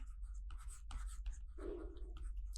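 Chalk or marker strokes on a classroom board come in short scratchy bursts separated by brief pauses, close and fairly quiet.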